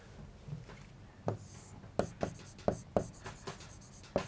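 Chalk or marker writing on a board during a physics lecture on the kinetic theory of gases, a series of sharp taps and scrapes in uneven rhythm, close and fairly clear, with no talking.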